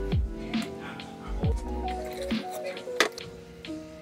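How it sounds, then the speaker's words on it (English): Soft squishing and wet patter as lumps are squeezed out of a mixture while milk is poured in during Thanksgiving dinner cooking, close and irregular, with sliding tones under it. "So I just gotta squeeze out those little lumps there."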